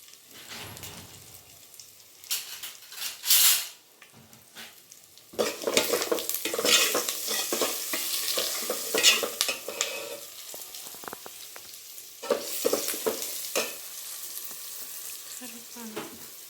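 Green chillies stir-fried in a pan make a close sizzle that rises in bursts with scraping and stirring, fading between tosses, heard alone without talk.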